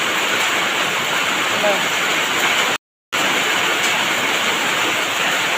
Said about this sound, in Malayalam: ഇവിടെ നല്ല മഴയാണ് തകർത്ത് പെയ്തുകൊണ്ടിരിക്കുന്നു